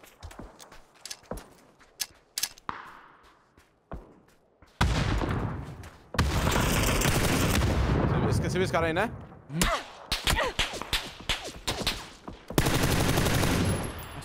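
Bursts of gunfire ring out in a first-person shooter match played with a shotgun, with sharp isolated shots early on, then long loud barrages and rapid volleys that alternate with quieter gaps, while a player speaks briefly over the action.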